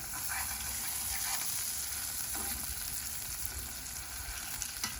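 Butter burgers frying on a Big Green Egg grill, with a steady, dense sizzle that holds evenly throughout at close range, with no talk.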